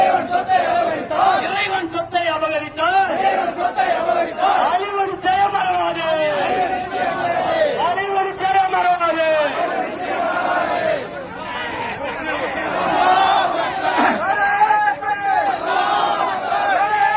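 A large protest crowd in Karaikal against the Waqf amendment law chants slogans and shouts in unison, voices loud and continuous with rhythmic rising calls throughout.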